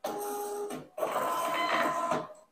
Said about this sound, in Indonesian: Selanjutnya kita mau print yang dari thermal transfer.